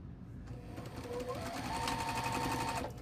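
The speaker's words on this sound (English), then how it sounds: "I'm going to be back stitching." Sewing machine back stitching quilt borders, a close, steady mechanical hum with quick needle clatter, its motor whine rising in pitch as it speeds up, then cutting off at the end.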